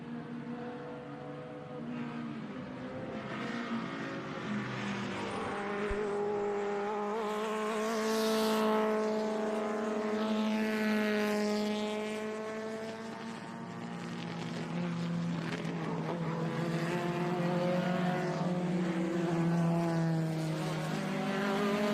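Small-displacement vintage sports race cars roar past at Sebring during an SVRA event, engines rising and falling in pitch as several cars pass in waves, loud and continuous.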